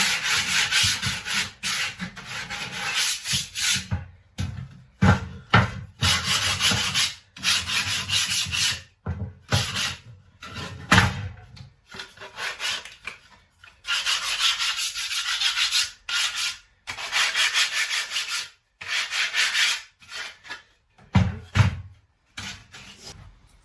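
Repeated strokes of sandpaper rubbing the edges of wooden workshop drawers, close and loud, in bursts of a few seconds separated by short pauses, with no talking.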